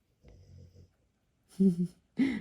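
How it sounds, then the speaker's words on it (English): A dog snoring: a soft, drawn-out snore, then two louder snorting breaths close by, all without talking. "my dog is in here and he's asleep and he started to snore"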